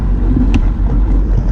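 Yamaha GP1200 and FXHO personal watercraft engines idle loudly and close, a continuous low rumble with no talk.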